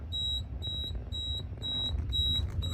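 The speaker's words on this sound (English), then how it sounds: "Because our garage alarm monitor module is active." Garage alarm monitor module of a building fire alarm system sounding, six evenly spaced high electronic beeps in a steady on-off rhythm over low background hum, fairly close and clear.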